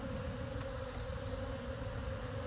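A steady, continuous hum of honey bees swarming around an open hive, a dense droning buzz at close range with no breaks and no talk.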